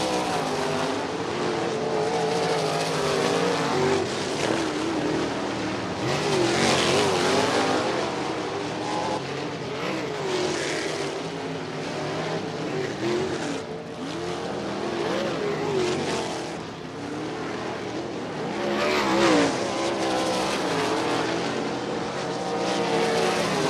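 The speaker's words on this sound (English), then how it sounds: "green flag will fly in Dirt Draft Hot Lap session number 1" Race cars circle a dirt track during a USAC hot lap session at Terre Haute Action Track, engines roaring continuously at a distance, swelling and fading as the cars pass.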